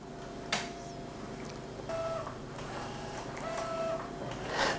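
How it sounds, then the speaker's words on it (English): An Epson P700 photo printer works on roll paper with a steady mechanical whir, soft clicks and occasional short whines from the print head, fairly quiet and close. "We will continue printing."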